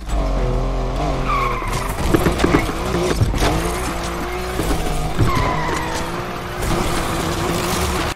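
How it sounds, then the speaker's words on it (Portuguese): A car drifts in the Need for Speed Unbound racing game at a drift event, its tires squealing and skidding continuously over a steady engine roar, loud and close, with no talking. "E aqui a gente faz um eventinho de drift"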